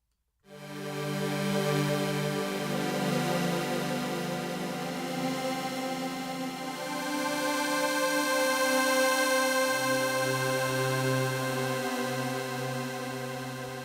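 A subtractive synthesizer plays a sustained pad shaped by its amplitude envelope, a soft swell into a rich, buzzy held chord that keeps droning for over ten seconds, its lower notes shifting partway through.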